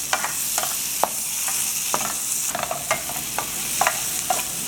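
Boiled cassava pieces get tossed in a buttered pan, a bright steady sizzle punctuated by regular clicks and scrapes of a utensil against the pan, close and without voices.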